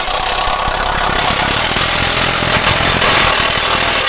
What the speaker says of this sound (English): so rattle gun.